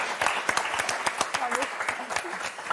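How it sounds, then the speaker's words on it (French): A studio audience on the French TV word game show Motus claps in a busy burst of crisp individual claps, while a host's voice carries on over the applause. "on vous applaudit très fort."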